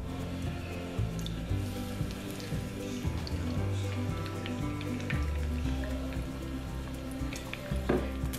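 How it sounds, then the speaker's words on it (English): Eggs crackle and sizzle steadily in hot oil in a pan, a continuous close frying hiss with scattered pops and a few soft utensil clinks, with no talking. "We're just going to drop a couple eggs in here and cook them up"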